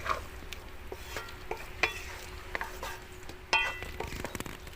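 A pot of bottle gourd and thankuni leaf shukto simmers and bubbles with a soft steady sizzle, with a few sharper stirring clicks and spoon knocks against the pot, close and moderately quiet.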